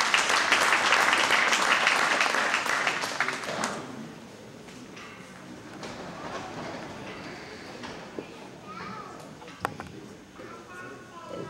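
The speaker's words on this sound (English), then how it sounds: "let's give these exhibitors a round of applause for this." Loud audience applause at a steer show for the first few seconds, fading into murmuring crowd noise with occasional claps and knocks.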